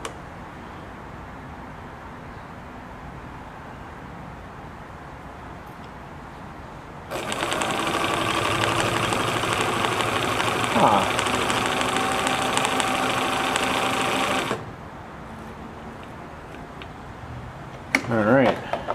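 A Bernina Record 730 sewing machine runs a decorative stitch in one steady, rapid, loud mechanical whir lasting several seconds, with quieter room sound before and after it.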